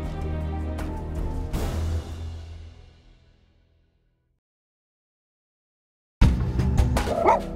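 Sled dogs bark and yelp excitedly, fading away into silence, then a loud burst of barking starts up again close by.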